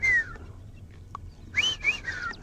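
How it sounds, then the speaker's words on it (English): White-faced whistling ducks give clear high whistled calls, one at the start and a quick run of three or four toward the end, set against a low steady background rumble at a safari setting. "So we have the white-faced ducks, the white-faced whistling ducks."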